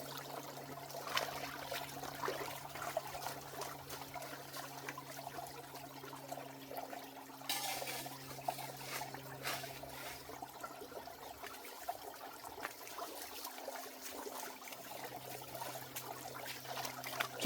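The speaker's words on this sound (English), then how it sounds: "I rinse off my shovel just in case there's any gold stuck to it." A shovel is rinsed in water at a gold prospecting site, with continuous trickling and splashing water over a low steady hum, a few louder sloshing surges partway through, and no voices.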